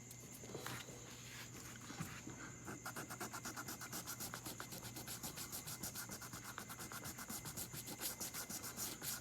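600 grit sandpaper is rubbed over the new jumbo frets of a Fender Stratocaster in quick, even back-and-forth strokes, a steady rhythmic scratchy hiss over a faint hum.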